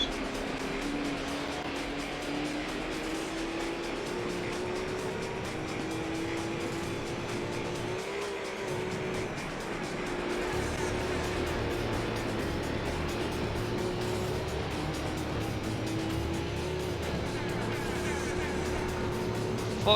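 LMP Dragon race car engine in Gran Turismo 3, a steady, sustained engine drone with a slowly wavering pitch, loud and continuous throughout.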